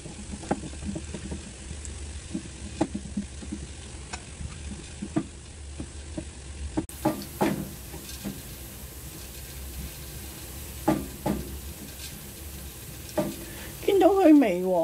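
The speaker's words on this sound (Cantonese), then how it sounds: "咁炸呢個蒜蓉咧，唔好太大火，" Minced garlic fries gently in oil over low heat, giving a faint steady sizzle broken by scattered stirring clicks and taps; a voice speaks briefly near the end.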